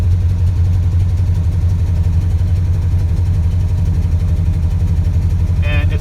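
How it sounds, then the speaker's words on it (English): An old hearse's V8 engine runs barely and roughly at idle, giving a continuous low, close rumble with little variation and a brief faint chirp near the end. "And it's barely running. I can't take my foot off the accelerator or she'll stop running."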